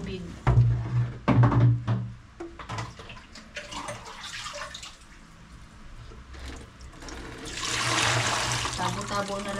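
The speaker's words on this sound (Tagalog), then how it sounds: "Lagyan natin ng tubig." Water poured into a basin for calamansi juice, splashing loudly toward the end after some clunks and handling sounds, with someone talking throughout.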